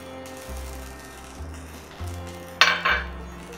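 A green pea and coriander mixture sautéing in a pan: a low hum with a few soft scrapes, then a sharp metallic clatter of the spoon against the pan near the end, with no talk.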